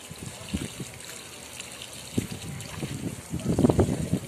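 Running water from a shower is poured over a Bandog puppy, a soft, uneven trickle and splash, mostly faint with a louder splashing burst near the end and no talking.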